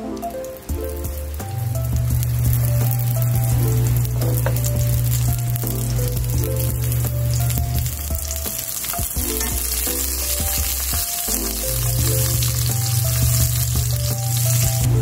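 Chopped onion hits hot oil in a pan and sizzles loudly and steadily throughout, with background music underneath and no talking.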